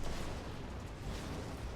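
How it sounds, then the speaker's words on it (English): Dense, continuous blasts and rumbling booms pile together into a loud, steady barrage of explosions in Borderlands 2. "And lots of explosions."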